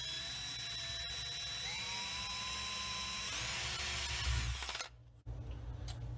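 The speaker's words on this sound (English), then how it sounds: "we're just going to drill a 1/4 inch hole in this pipe" A power drill bores a quarter-inch hole in a horizontal water pipe, a steady high whine for several seconds that stops abruptly, followed by a couple of faint handling sounds.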